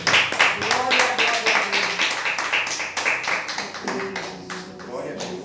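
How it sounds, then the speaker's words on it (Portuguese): A church congregation claps their hands in a quick, steady rhythm, many sharp overlapping claps close by, with a voice over them. "As palmas glorificam ao Senhor."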